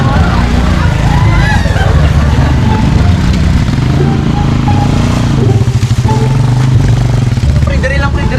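A motorcycle engine runs loud and close, a steady rumbling drone, with people talking and general chatter mixed in.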